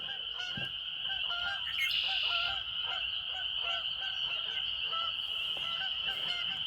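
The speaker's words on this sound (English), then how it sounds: "a couple of honkers just landed in the lake" Geese honking as they land on a nearby lake outdoors, a steady chorus of nasal honks that overlap for the whole stretch, moderately close and loud over a constant high-pitched background tone.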